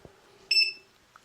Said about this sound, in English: Now I should be able to turn the inverter back on, get a beep